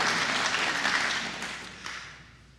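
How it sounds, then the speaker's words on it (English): An audience at a talk on Christian nationalism bursts into loud, dense applause that holds briefly, then tapers off and fades toward quiet. "Yeah, you can clap for that."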